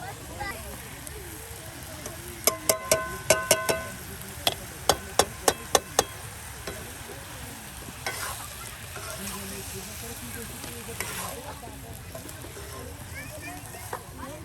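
Vegetables, eggplant and potato, tossed into a pan with dried shrimp and spices, giving a steady sizzle with stirring, a quick run of sharp clinks early on, and voices talking over the cooking.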